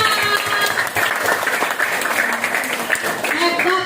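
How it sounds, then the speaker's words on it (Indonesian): Applause from a class of students, steady dense clapping lasting throughout, loud and close, with voices mixed in. "Beri tepuk tangan."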